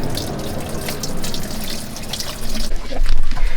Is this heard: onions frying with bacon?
no